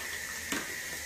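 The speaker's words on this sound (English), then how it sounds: "Adding a little bit more water." Tap water runs steadily into a washing machine drum filling a Procion dye bath, a continuous hiss with a brief splashy bump partway through, heard alone.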